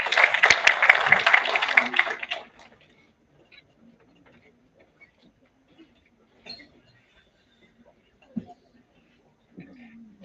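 At a national seminar an audience gives a brief round of applause lasting about two seconds, then the hall falls nearly silent apart from faint scattered shuffles and small noises.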